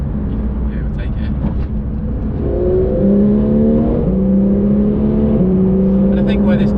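A Porsche 911 GT3 with a 4-litre engine in PDK Sport mode accelerates hard, its loud, close engine note climbing steadily through the gears in a sustained rising whine with brief dips at each shift.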